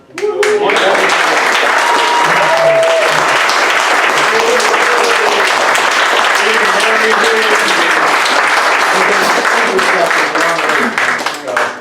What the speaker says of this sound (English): please give a round of applause for Mark